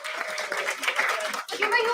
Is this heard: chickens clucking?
no